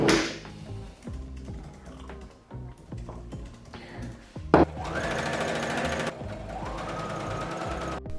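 A sewing machine sews basting stitches along the bottom of dress sleeves. It starts with scattered mechanical clicks and short runs, then settles into a loud, steady whirring stitch for the last few seconds.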